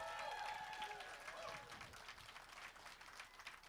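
An audience at an outdoor family dance performance at Crazy Horse Memorial applauds the dancers, a steady wash of clapping from a crowd that fades gradually over a few seconds, with a voice heard faintly under it.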